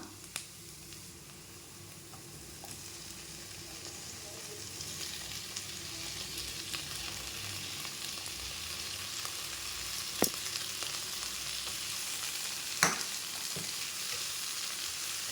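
Onions softened in a pan sizzle and fry steadily with tomatoes going in, a continuous broadband hiss with a few sharp spatula scrapes and clicks near the end, no voices over it.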